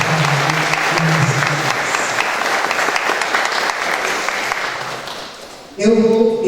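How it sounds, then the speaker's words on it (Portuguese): Crowd applauding warmly at a religious blessing of folia flags, a sustained wash of many clapping hands that slowly fades, then a voice cuts in near the end. "Pode até aplaudir vocês"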